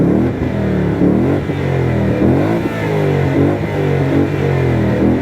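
A 2023 Ford Mustang GT V8 with manual gearbox revs with no load, a steady loud engine drone with rising and falling pitch sweeps, heard from inside the car.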